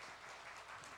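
A church congregation at Sunday worship claps briefly to welcome a returning deacon, a faint, even wash of applause from a distance.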